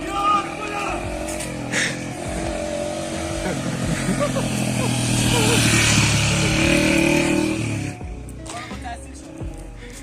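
A motorcycle engine runs steadily and fairly loud while a beginner learns to ride, with people talking over it throughout and the engine note dropping away near the end.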